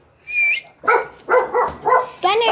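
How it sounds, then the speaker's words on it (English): A puppy barks and yips in a quick series of sharp, high calls at close range, with a person calling out over the barking. "This is my sister's dog,"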